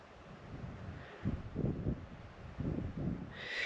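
Wind gusting across the Snake River Canyon, with rough low rumbling bursts of microphone buffeting that swell and fade several times over a steady outdoor hiss.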